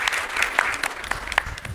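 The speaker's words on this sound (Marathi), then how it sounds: "म्हणून त्यांच्यासाठी एकदा टाळ्या होऊ द्या." Audience applause at a Marathi public event, a short burst of brisk clapping from a modest crowd, close and clear with no talking over it.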